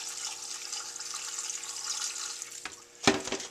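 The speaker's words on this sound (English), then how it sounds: "So I'm going to put in a little bit of water." Water trickles and splashes into a pot holding dried ancho chile pods, a soft continuous pouring hiss that dips briefly and then swells into a louder, closer gush near the end.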